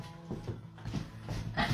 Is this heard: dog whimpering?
yes